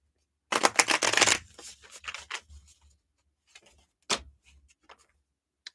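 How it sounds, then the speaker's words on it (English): Tarot cards being shuffled by hand, a burst of riffling and flicking close up, then a few softer taps and one sharp snap, with no speech. "I saw that card is shuffling and now it came flying out."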